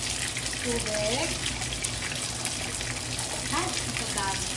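Water poured into a pan while making gravy for pork chops, a steady splashing gush running throughout, loud and close, with brief talk underneath.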